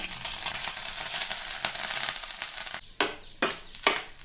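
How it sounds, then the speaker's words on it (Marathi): Grated coconut roasting in ghee in a pan gives a steady, close hiss of sizzling, followed near the end by three or four short scraping sounds as it is stirred. "आतां ही सोय न्हय तुपान बरी हे करून घेया"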